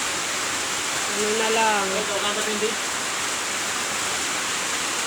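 Heavy rain pours in a steady, loud wash over deep floodwater around a house, a constant hiss, while a voice speaks briefly in the middle.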